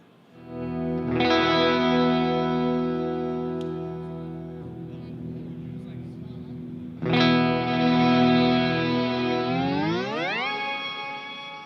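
Sustained electric guitar notes through an EarthQuaker Devices Afterneath V3 reverb pedal, drag turned fully up, wash out into a long, swelling reverb tail, with the pitch warping and morphing as the effect changes.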